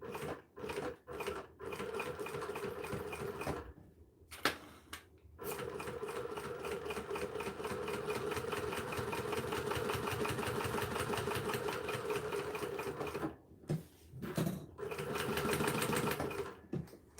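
A new sewing machine stitches a leather bag seam, running in rapid rhythmic bursts broken by several short stops and restarts, close and fairly quiet, with no voices.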